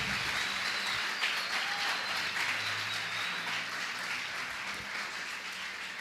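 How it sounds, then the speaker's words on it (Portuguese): Sustained applause from an audience at a Christian podcast recording, steady and dense for the whole stretch with no voices standing out. "Você pode aplaudir ao Senhor, gente?"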